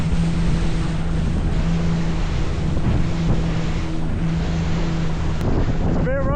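A motorboat drones steadily across rough, windy Lake Michikamau in Labrador through three- to four-foot waves, with constant wind buffeting the microphone and a brief whistling sweep near the end.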